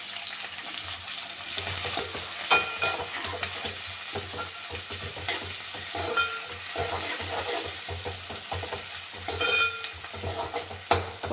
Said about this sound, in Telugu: ఇప్పుడు టమాటా ముక్కలు వేసుకుంటున్నాను. కరివేపాకు వేసుకుంటున్నాను.